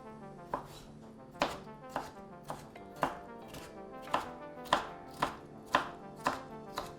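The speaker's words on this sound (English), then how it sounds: "it's half a cup of finely diced pickle for the mix-in. I'll show you what I mean by finely diced." A knife finely dices pickles on a cutting board, producing a steady series of about a dozen crisp, close chopping thuds at an even rhythm.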